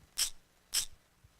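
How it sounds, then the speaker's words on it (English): Two soft, airy shaker strokes spaced about half a second apart, hissy and bright, heard alone. "and this is the Z shaker."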